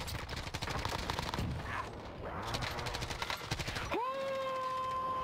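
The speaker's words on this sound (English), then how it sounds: "Precision airstrike inbound." A precision airstrike lands in a first-person shooter match: a dense barrage of loud, rapid explosive blasts and gunfire-like cracks runs for about four seconds, then cuts to a sustained rising electronic tone.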